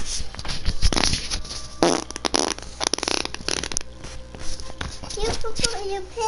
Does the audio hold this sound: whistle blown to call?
no